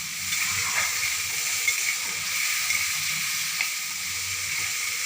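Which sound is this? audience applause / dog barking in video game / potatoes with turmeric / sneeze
potatoes with turmeric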